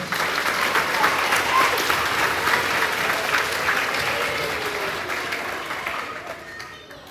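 Applause at a grades 4-6 school awards ceremony, a room of parents and children clapping loudly and steadily for several seconds before fading out near the end.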